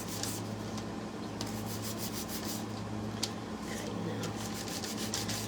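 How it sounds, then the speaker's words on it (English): Sandpaper rubs steadily over painted wooden letters in continuous close scratchy strokes, with no talking. "And then sand our letters just a pinch."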